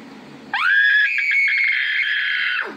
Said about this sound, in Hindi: चीख मार जोर से